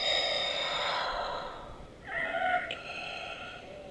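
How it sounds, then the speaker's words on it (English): Black Series Darth Vader helmet plays its sick and dying breathing effect from a built-in speaker close by: a long wheezing inhale, brief pause, then a rasping exhale, loud and alone. "The sick and dying Vader breathing sounds."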